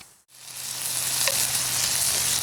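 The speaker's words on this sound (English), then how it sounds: "I'm going to go ahead and give this salt pork a stir" Salt pork frying in a cast-iron Dutch oven at a campsite, a steady close sizzle broken by a brief stir near the start, with no voices.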